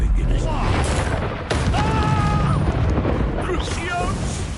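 Confringo blasting spell in Hogwarts Legacy erupts in a loud booming burst around the midpoint, set amid dense, continuous combat noise and chatter, with sharp whooshing spell effects and a second softer flare near the end.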